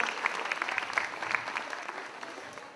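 Audience applause at a school children's drama performance on Indian culture, dense steady clapping from a crowd that gradually fades toward the end.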